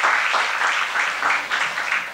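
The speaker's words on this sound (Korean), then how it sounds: "여러분 이럴 때는 좀 박수를 좀 쳐야 돼요." An audience applauds during a talk, with moderately loud, continuous clapping that holds a steady, even texture for a couple of seconds.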